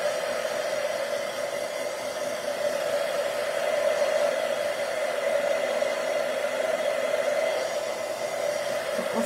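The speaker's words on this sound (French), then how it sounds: "OK, donc j'ai mon fer à embosser." Heat embossing tool blowing hot air for a watercolor stamping craft, a steady, even whooshing hum like a small hair dryer, running continuously at close range with no talking.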